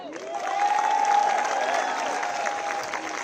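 A protest crowd claps and cheers together, steady massed applause with a sustained rising whistle or shout riding over it, moderately loud and continuous.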